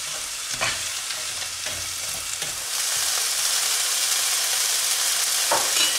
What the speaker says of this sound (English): we're just going to fry this around the pan, constantly stirring for about 2 or 3 minutes till it's softened